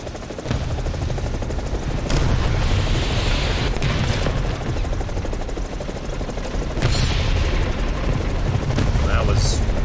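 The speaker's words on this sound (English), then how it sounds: "Let's open my doors so I can hear the other helicopters around here." Helicopter rotors and engines in a video game, the AB 205 A-1 Italian UH-1H, are heard through open cabin doors as a loud, continuous low thudding roar, with bursts of gunfire and booms mixed in and a voice talking over it.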